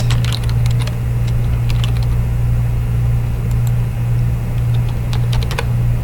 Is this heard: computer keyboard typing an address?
yes